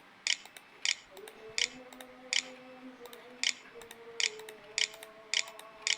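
A Wi-Fi password is typed on the internal keyboard of a Lenovo G40 laptop, about ten crisp, evenly spaced key clicks over a faint tonal hum, close and fairly quiet.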